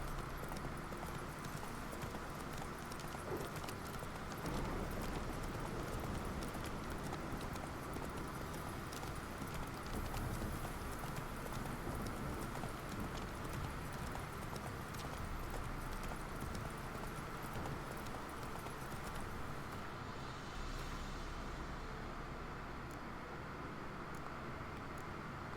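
Roach, the horse in The Witcher 3, gallops steadily along a road with continuous clip-clop hoofbeats, loud and close, under a dense wash of ambient noise that thins out near the end.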